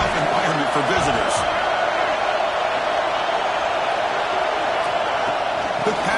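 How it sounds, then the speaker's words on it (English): A steady roar from a stadium crowd at a football game fills the background, with a commentator talking over it throughout. "Listen to the crowd energy here in the early going."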